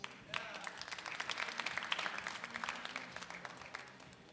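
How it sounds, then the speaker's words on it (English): An audience at a natural bodybuilding show breaks into applause, a dense patter of many hands clapping at moderate distance that swells and then gradually fades, with a brief voice underneath. "So let's give Rich a big round of applause for expediting for us"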